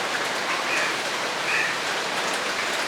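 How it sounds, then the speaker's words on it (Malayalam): Steady rain falls and patters continuously on surfaces, an even hiss from start to finish, fairly close and with no voices. "ഇപ്പോൾ മഴ പെയ്യുന്നു"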